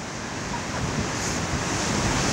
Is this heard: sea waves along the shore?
yes